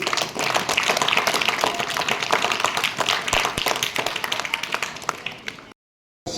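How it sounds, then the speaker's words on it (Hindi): Students clap together in a school gathering, a dense, lively burst of applause that carries on for several seconds before cutting off abruptly. "तालियां बजाइए इसके लिए।"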